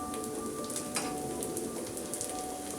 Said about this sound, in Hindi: अब थोड़ी थोड़ी ड्रॉप हम इसमें ऑयल की और डालेंगे।